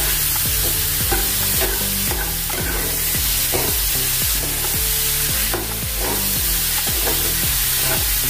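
Ground tomato puree sizzles and fries in a pan for an aloo lauki sabji while a spoon stirs it steadily, scraping in a repeated rhythm close by.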